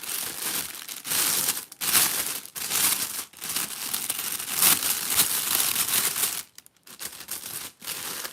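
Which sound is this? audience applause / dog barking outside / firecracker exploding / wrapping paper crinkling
wrapping paper crinkling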